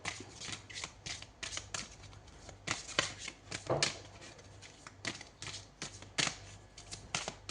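Tarot cards being shuffled and drawn, a quick irregular run of crisp riffling flicks and slaps, close and moderately loud, with no voice over them.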